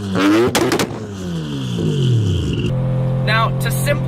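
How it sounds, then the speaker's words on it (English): Someone's three-rotor Mazda RX-7 running a 4-inch exhaust revs loud and close, its harsh engine note climbing and then falling back, with a short burst of talk over it near the end. "this car is so loud with a 4-inch exhaust all the way through, and when it two-steps, just blows your eardrums out"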